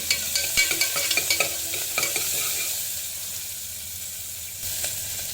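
Onions and curry leaves with mustard seeds and asafoetida frying in a pan for a brinjal dish: a steady loud sizzle with a run of rhythmic spatula scrapes and taps in the first half, continuing alone with no speech.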